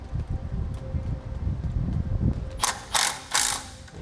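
Ratchet wrench tightening a new metric bolt and washer on a bracket while installing air helper springs on a 2018 Chevrolet, with a low rumble of handling followed by three loud bursts of rapid ratchet clicking close by.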